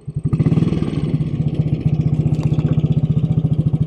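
A 1957 Royal Enfield Bullet 500 single-cylinder engine thumps close and loud after being put into first gear, a steady rapid pulse with a slight dip in rhythm partway, and no talk over it.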